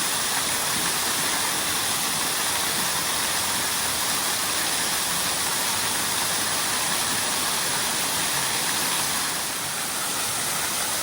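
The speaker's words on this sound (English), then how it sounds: "I had no idea how big this waterfall was." The large waterfall in Laurel Gorge roars as a constant, dense broadband rush of falling water, loud and steady throughout with no voices.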